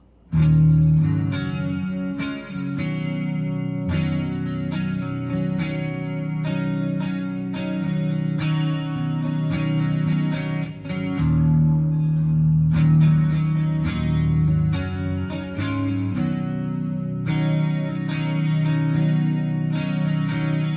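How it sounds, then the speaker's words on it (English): Acoustic guitar strums suspended chords, a steady, close, fairly loud passage of ringing chords with regular strum attacks throughout, no voices. "here's more of those sus chords. He uses them through most of his acoustic stuff, but it goes like this."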